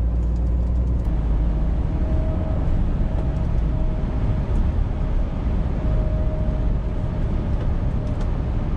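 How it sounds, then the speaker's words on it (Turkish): A truck's retarder brakes on a road through town, giving a loud, steady low rumble with a faint sustained whine above it throughout, heard from inside the cab with no talking. "Retarderimizi bir kullanalım. Retarder hemen de işliyor."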